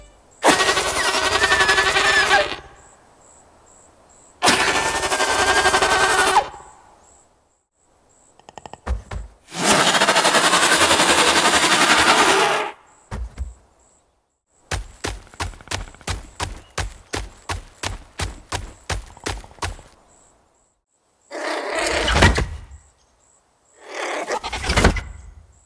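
Creature sound effects for the Skaith skin in The Wings of Dawn video game: bursts of harsh roaring and snarling separated by silences, a rapid series of clicking or chattering pulses, then short growls near the end.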